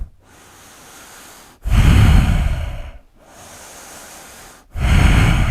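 Deep, loud breaths during a yoga flow, with long airy inhales alternating with heavier, fuller exhales in a slow, steady rhythm close to the microphone.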